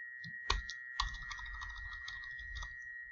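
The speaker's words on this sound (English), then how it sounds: "Enter the student's banner ID number, beginning with a plus sign." Fingers tap out a student ID number on a computer keyboard, a quiet, uneven run of light clicks with a couple of firmer key presses over a faint steady hum.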